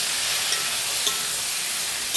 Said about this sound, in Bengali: ভাজা ভাজা করে নেড়ে নেব যতক্ষণ না একটু ভালো করে ভাজা হচ্ছে